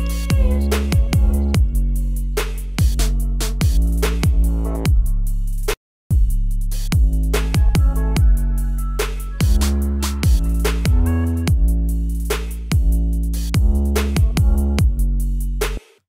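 A future bass track's outro plays a punchy synth bass part with rhythmic chord stabs over a steady beat, loud and full, with one brief dropout midway and no voices.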